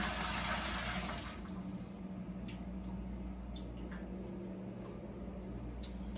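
Chicken and vegetable broth pours from a cup with a brief, fairly loud splashing rush, then gives way to faint drips and quiet kitchen background.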